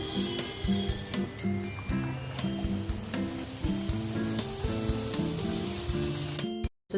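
Kajjikayalu, Andhra sweet dumplings, deep-frying in hot oil, a steady close sizzle and bubbling with a rhythmic mechanical hum underneath, cutting off abruptly at the end.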